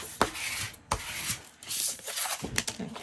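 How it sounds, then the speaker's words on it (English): A small squeegee rubbed firmly down over a page in an ephemera storage book, producing close, dry scraping swipes broken by a few soft knocks, moderately quiet and without speech. "And then I'm going to get my little squeegee."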